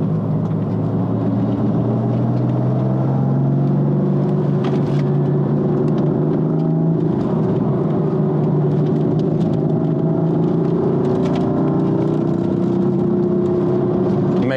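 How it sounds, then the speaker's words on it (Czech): A Mercedes C63 in sport mode with the automatic gearbox pulls hard under throttle, its engine droning loud and close with a steadily rising pitch for the whole stretch. "Mega krásně to jde za plynem."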